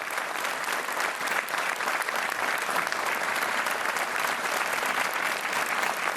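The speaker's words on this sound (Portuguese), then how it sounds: "O aplauso para o Paulo Martins, portou-se muitíssimo bem" A studio audience on the Portuguese TV quiz show Joker claps steadily and loudly for a contestant. The applause stays dense and even throughout without pause.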